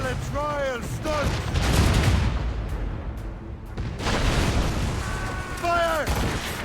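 Ship cannons firing in a naval battle in Assassin's Creed Rogue, loud booming volleys that roll into rumbling salvos, with shouted crew voices mixed in near the start and end.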